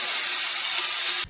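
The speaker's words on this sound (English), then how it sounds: "I just put it on my little indoor electric grill, added some salt and pepper, let that sizzle," A ground beef patty seasoned with salt and pepper sizzles on an indoor electric grill, a loud close, steady hiss that cuts off abruptly at the end, no talking.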